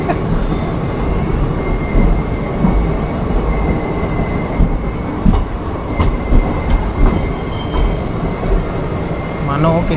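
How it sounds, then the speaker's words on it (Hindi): An express train from Jammu Tawi to Jodhpur passes through a narrow village lane in the Rajasthan desert with a loud, close, continuous rumble of wheels on rails, some clatter and brief squeals. "मानो किसी सोसाइटी की गली हो और उसके बीच से ट्रेन निकल रही है"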